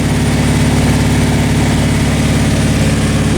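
A Nissan 300ZX engine idles loud and close right after starting, a steady low rumble with an even pulsing throb throughout and no voices.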